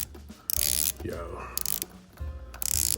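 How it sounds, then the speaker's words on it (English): The bezel of a Longines HydroConquest diver's watch with a sapphire crystal and black dial turns with crisp, close ratcheting clicks in quick bursts, while someone speaks briefly. "Let's listen to that bezel action."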